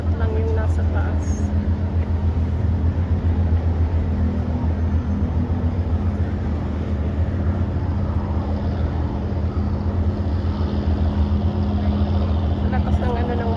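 A passing boat's motor drones loudly and steadily at a seaside spot, a continuous deep hum with wind-like rushing for the whole stretch, and people's voices come through faintly over it.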